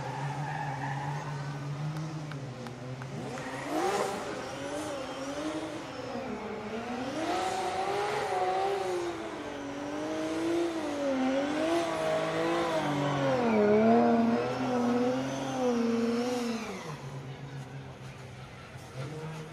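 A Formula Drift hot rod drifts through a run, its engine rising and falling in long wavering revs with tire squeal and skidding, heard from a distance with crowd and track noise behind.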